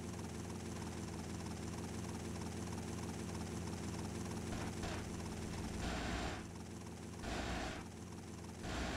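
A helicopter in GTA Vice City Stories keeps up a dense, continuous rotor-and-engine roar at low level, with brief swells and dips in the noise midway through; no talk in the clip.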